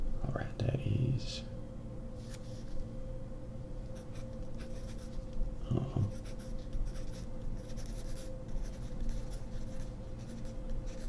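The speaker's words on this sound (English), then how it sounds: "let me just go ahead and scribble it down here" A pen scribbles and writes on paper at a motel check-in desk, a soft, close, continuous scratching that runs through the whole stretch, with brief quiet speech and faint taps at the start and near the middle.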